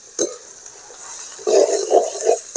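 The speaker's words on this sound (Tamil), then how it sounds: "காந்தாமல் நல்லா வதக்கணும்." Ingredients for bottle gourd rasam being sautéed in a pan, with a soft sizzle and several close scraping stirs that get louder in the second half.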